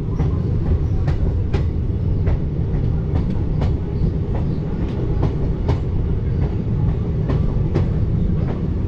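The 13063 Balurghat Express rumbles loudly across the Ajay river, heard from on board. Steady wheel clicks beat over a continuous roar and nobody speaks.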